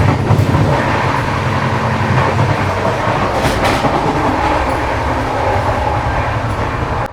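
A Rajdhani Express train rumbles loudly and steadily along the tracks with a faint clickety-clack, heard close up from inside a carriage.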